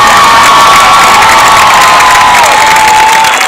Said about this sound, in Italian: Noi siamo fortunati perché abbiamo uno staff fantastico, si merita un grandissimo applauso.